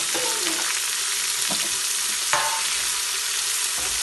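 Beans, potato, carrot and frozen peas frying in a pan for vegetable pulao, a constant close sizzle with occasional stirring scrapes and clinks.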